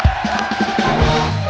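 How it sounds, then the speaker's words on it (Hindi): A studio audience at a TV comedy show gives a brief, loud burst of crowd cheering and whooping, close and dense. "एक बार दिव्या जी के लिए जोरदार तालियां।"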